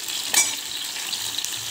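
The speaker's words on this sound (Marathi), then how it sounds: "आणि हे उरलेल्या तेलामध्ये कांदा टोमॅटो आपण पनीर आणि भेंडीसारखा मस्त फ्राय करून घ्यायचं त्याला" Onion and tomato frying in leftover oil in a pan, a close steady sizzle with a brief stirring scrape early on.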